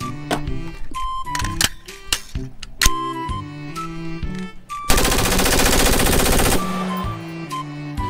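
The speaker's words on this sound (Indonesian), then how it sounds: "Dan ini adalah tembak-tembakan HK416" Rapid bursts of toy HK416 rifle gunfire, a sharp clattering stream of clicks and shots with a sustained loud rattle in the middle, mixed with scattered knocks and handling noises.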